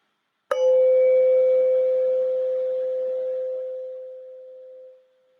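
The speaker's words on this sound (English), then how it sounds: "We'll focus on the sound of the bell from the beginning to the end" A single mindfulness bell is struck once, ringing out with a clear sustained tone that slowly fades over several seconds in otherwise silent surroundings.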